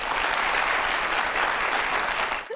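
Studio audience on a comedy talk show breaks into loud, sustained applause, a dense even roar of clapping that holds steady throughout before cutting off abruptly at the end.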